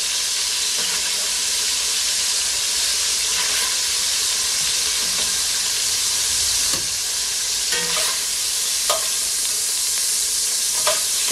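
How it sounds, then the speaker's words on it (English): Rabbit pieces searing in added fat in a pan, frying steadily with a loud, close, continuous sizzle and hiss, broken by occasional clinks and scrapes of stirring over about eleven seconds, with no talking. "Don't want to cook it all the way through, just enough so they're seared on both sides."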